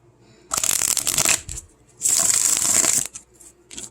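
Tarot cards being shuffled in two brisk bursts, each a dense flurry of riffling card edges lasting about a second, with a short pause between them and faint handling afterward.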